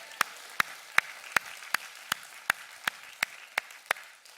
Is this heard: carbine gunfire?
no